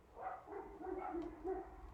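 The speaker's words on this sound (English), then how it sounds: "Sorry, dogs are barking." Several dogs bark in a quick run of four or five muffled yaps, soft and somewhat distant indoors, with no speech over them.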